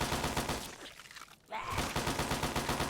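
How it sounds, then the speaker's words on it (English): Rapid rhythmic gunfire from a man shooting in the video game Fallout, a steady stream of close shots that breaks off briefly midway and then resumes at the same pace. "Now I understand why we hear that guy shooting forever."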